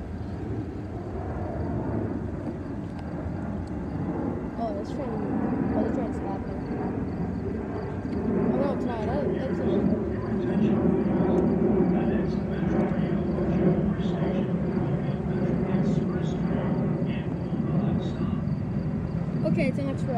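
Inbound express commuter train approaching Edgebrook station at rush hour, a low rumbling roar that swells steadily and stays loud and continuous for about twenty seconds.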